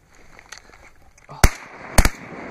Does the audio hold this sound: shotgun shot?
yes